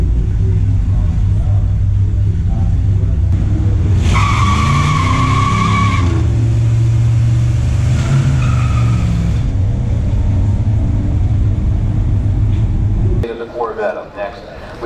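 Drag race between a 1966 Plymouth Belvedere and a 1965 Ford Galaxie 500 XL with a 394 engine: a loud, sustained roar of revving engines with long tire squeals and skids, cutting off abruptly near the end.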